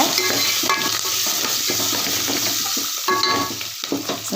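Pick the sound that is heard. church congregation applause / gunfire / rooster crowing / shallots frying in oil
shallots frying in oil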